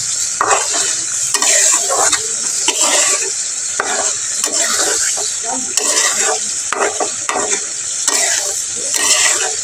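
A mixture with onion and chili fries loudly in a pan while being stirred, the strong sizzle pulsing with rhythmic spatula scrapes and clatters, close and continuous.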